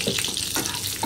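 Spiced masala of turmeric, coriander powder and onion-garlic masala sautéing in a pan for Maharashtrian ghevda bhaji, a soft continuous sizzle with a few faint scrapes of stirring, quiet and close.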